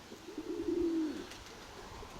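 A single soft, low pigeon coo rises and fades over quiet outdoor background.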